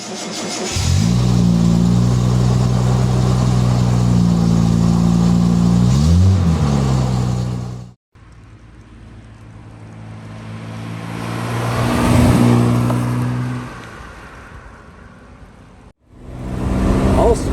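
An Austin Healey 3000 fitted with a five-speed conversion revs and pulls through the gears on the road, its engine note swelling and falling in long climbs with brief breaks between shifts, loud and close.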